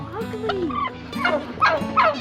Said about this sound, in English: Those turkeys look a bit wild.